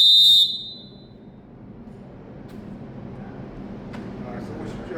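A basketball referee's whistle blasts loudly and briefly at the very start during an officials' training clinic, then gives way to low room rumble and background noise.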